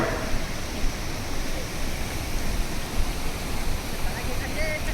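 Floodwater after heavy rain rushes over a village bridge in a loud, steady roar of broadband noise that never lets up.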